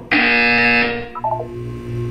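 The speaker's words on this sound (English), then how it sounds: "When you hear the buzzer, look down at the floor." A loud electronic buzzer from the video game Portal sounds alone, a sustained harsh tone lasting about a second, followed by a softer chirping electronic blip and a low lingering hum.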